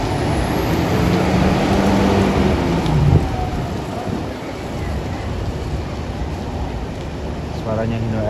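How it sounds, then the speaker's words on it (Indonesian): A Hino RM bus engine rumbles loudly and steadily on a Rajawali Purwa coach at a bus terminal, a deep continuous drone that eases slightly partway through, with faint voices in the background. "Suaranya Hino RM tuh gitu ya."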